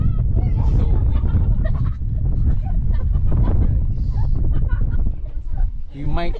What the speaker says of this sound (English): Oh, it's so windy right here.